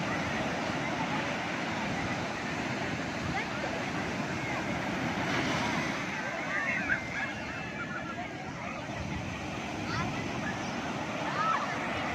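Steady roar of ocean waves washing on Besant Nagar beach, continuous and fairly loud with wind noise, a few faint distant calls on top.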